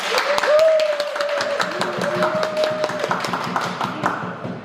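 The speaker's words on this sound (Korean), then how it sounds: "모두 다 박수로." A church congregation claps along during a Sunday praise worship service, steady rhythmic applause over music with a sustained sung or played tone, loud and close throughout.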